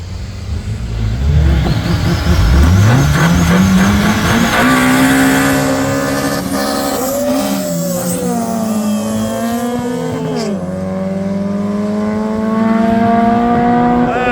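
Front-wheel-drive and rear-wheel-drive cars drag racing, engines revving loud and close, then one climbs steeply through the gears with a rising whine and brief tire squeal, a second engine note layering in as both accelerate away.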